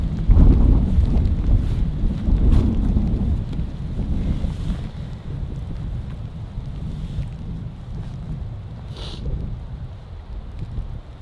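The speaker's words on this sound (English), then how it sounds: "It's so windy now." Strong, gusty wind at a winter snow campsite roars and buffets the microphone in a steady low rumble, loudest at the start and easing slightly later.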